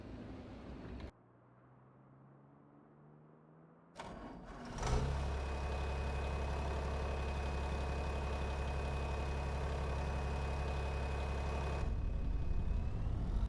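A 1970s-era farm tractor cranks and starts up, then settles into a loud, steady, rumbling idle with a strong low drone that carries on for several seconds, close and without talking.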